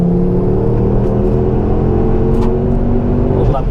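Collins Performance Stage 2 Ford Focus ST pulling in third gear, a loud, steady in-cabin engine drone with a layered rumble that holds for several seconds before a short shift-like change near the end.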